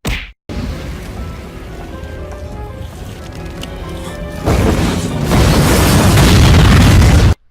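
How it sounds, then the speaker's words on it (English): A practical fire explosion effect from the 2004 Punisher action film erupts loudly, first a sustained rumble and then a heavier roaring blast that swells and holds before cutting off abruptly. "Practical fire effects in a big budget Hollywood movie."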